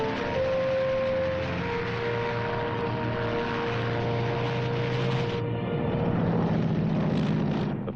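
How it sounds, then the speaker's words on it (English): Propeller plane landing on a newly cleared World War II island airstrip at Tarawa, giving a loud, steady droning engine hum with sustained tones that shift partway through. "The first plane landed just 24 hours after the Seabees had started to work."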